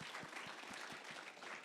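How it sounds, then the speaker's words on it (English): Very faint, distant round of applause from a summit audience for a stage panel, a dense spread of many hands clapping with a few more distinct claps standing out. "Can we just get a quick round of applause for these amazing people?"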